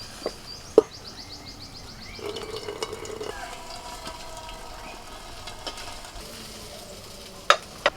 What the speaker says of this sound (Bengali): কড়াইতে যে তেলটা আছে ওই তেলের মধ্যে দিয়ে দিচ্ছি গোটা জিরে